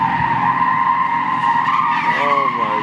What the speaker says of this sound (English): This guy just fucking does donuts everywhere.